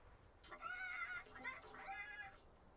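Chickens in a video game give a few short, squawky, tonal clucking calls in quick bursts, fairly quiet and close, with no talking.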